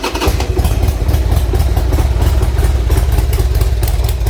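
A Harley motorcycle engine fires up with the choke pulled fully out, then settles into a loud, close, lumpy idle with a fast throbbing beat that continues to the end.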